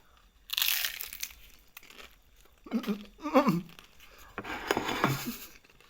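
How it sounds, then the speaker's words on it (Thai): Crispy fried kratong cups from a Thai shrimp salad are bitten close to the mic, giving three loud crunchy bursts with quiet gaps and faint chewing between them. "มาดูนะครับจะให้ฟังว่ากระทงกรอบอ่ะมันกรอบขนาดไหนนะครับ"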